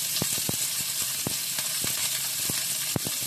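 Chopped onion and capsicum fry in hot oil for chilli baby corn, giving a steady loud sizzle broken by several sharp clicks and pops of spatters and a spatula scraping the pan.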